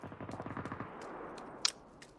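Gunfire in the video game PUBG: a rapid burst of automatic shots in quick rhythmic succession, followed by a few sparse louder single cracks, fairly close and with no talk.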